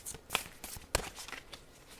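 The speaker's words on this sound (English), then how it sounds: "the deck that I am currently shuffling is the Starseed Oracle" An oracle card deck, the Starseed Oracle, is shuffled close by in soft, quick papery riffles with a few sharper slaps, with no talking.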